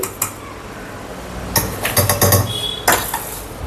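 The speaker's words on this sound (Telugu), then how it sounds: "ఇప్పుడు ఇవి కూడా చల్లగా అయిపోయాయి కనుక ఇవి కూడా మిక్సీలో వేసేద్దాం" Cooled roasted spices such as coriander seeds and cumin are tipped into a mixer jar, giving a few sharp metallic clinks and a short rattling clatter, close by and otherwise quiet, with no talking.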